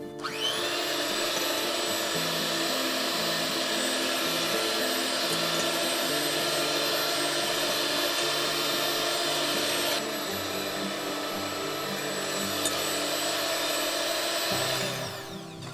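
An electric mixer whipping a foaming coconut macaroon mixture of egg whites runs steadily with a loud, continuous high whine, close and unbroken for the whole stretch with no talk over it.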